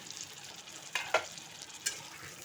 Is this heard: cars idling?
no